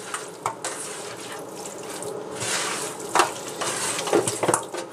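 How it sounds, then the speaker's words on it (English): Seasonings are mixed by hand into raw chicken wings for frying, a close, wet squelching and sloshing that goes on steadily with a few sharper slaps and clicks, no talk. "So once you have all your seasonings on there, you're just going to mix it up."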